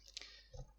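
A single crisp mouse click from a computer mouse in a quiet room, one sharp tick near the start followed by a faint low thump, with no voice.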